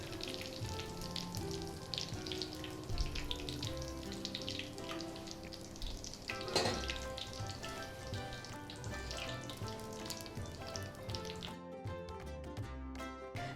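Boondi drops frying in hot ghee for motichoor ladoo give a steady, close crackling sizzle with a wet, bubbly texture throughout, and a brief sharper burst midway.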